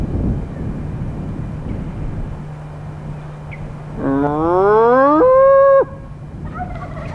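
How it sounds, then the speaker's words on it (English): A single drawn-out moo from a cow at a nearby farm rises in pitch and swells, then cuts off. It carries from some distance across wooded ridges, over steady outdoor background hum. "Hear that cow answering me?"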